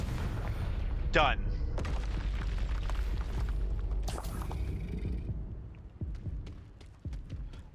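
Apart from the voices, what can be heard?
Confringo spell explosions in Hogwarts Legacy video game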